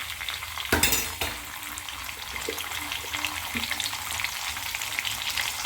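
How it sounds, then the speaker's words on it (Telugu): Ginger-garlic paste and turmeric frying in hot oil with curry leaves and green chillies, a steady close sizzle with a sharp burst as the paste hits the pan, then stirring clinks over continuous hiss. "కొంచెం పసుపు వేసుకొని ఇవి కూడా బాగా ఫ్రై అవ్వాలి, పచ్చి వాసన పోయే వరకు"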